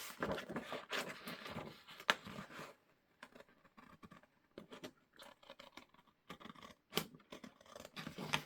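Paper being cut with scissors while making a folio: irregular snipping and scraping bursts, close and quiet, with pauses of near silence between clusters of cuts.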